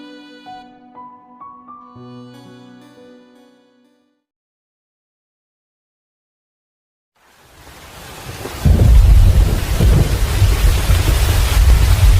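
A thunderstorm breaks in with heavy rain after a short musical phrase and a few seconds of silence, the downpour swelling into a loud, dense roar with deep rumbling thunder beneath.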